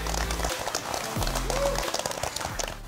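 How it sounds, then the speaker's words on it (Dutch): An audience applauds to welcome star chef Margot Reuten at a Limburg vlaai baking masterclass, a continuous wash of clapping mixed under loud, prominent music throughout. "Ik zou maar een heel groot applaus geven, want hier is Margot Reutte."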